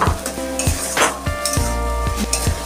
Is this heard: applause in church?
no